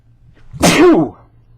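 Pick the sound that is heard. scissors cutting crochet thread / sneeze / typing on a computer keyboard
sneeze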